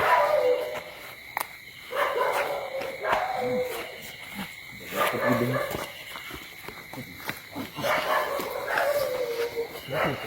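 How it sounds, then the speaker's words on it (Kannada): Several dogs bark repeatedly at a moderate distance, in scattered bursts, while people talk and footsteps move nearby along a roadside by a house. "ತುಂಬಾ ನಾಯಿಗಳು ಬಗ್ಕೊಂಡಿದ್ವಿ."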